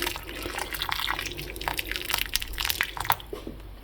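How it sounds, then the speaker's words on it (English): Boiling water poured over potatoes in a pot, heard close as a continuous splashing, gurgling stream with scattered drips, with no talking. "I'm going to go in and cover these with boiling water"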